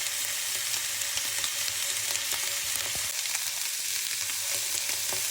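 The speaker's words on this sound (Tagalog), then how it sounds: "Kasi ito, ipa-fry lang natin na walang oil." Chicken wings fry in their own rendered fat without added oil, giving a loud, continuous crackling sizzle with occasional sharp pops and light stirring clicks, with no talking.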